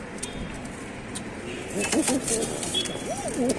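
Pigeons cooing in a loft in Tanta, Egypt, where birds are kept for sale: soft rolling coos come in toward the end over a steady background hum, with faint voices in the room.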